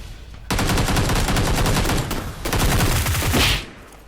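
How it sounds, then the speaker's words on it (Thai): Rapid automatic gunfire in the battle royale game PUBG Lite, a dense burst of loud shots lasting about two seconds, a brief gap, then another sustained volley before it cuts off. "ใครมายิงเรา"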